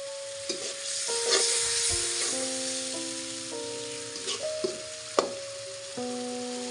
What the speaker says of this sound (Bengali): অল্প অল্প জল দিয়ে মশলাটি কষিয়ে নিচ্ছি।